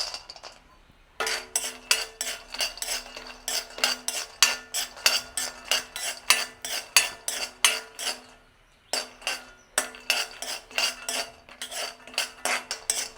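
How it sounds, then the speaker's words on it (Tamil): Almonds roast in a pan for nut balls while a spoon scrapes and clinks against the metal in a quick, regular rhythm, close and steady, with a short pause midway before the stirring resumes. "பாதாம் நாங்கள் வறுத்தெடுப்போம்"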